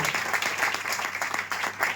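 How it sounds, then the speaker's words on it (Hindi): Loud, dense audience applause at a health awareness program, a continuous burst of many hands clapping with no speech over it. "मैं चाहूंगा फिर से एक बार जोरदार तालियां चाहिए"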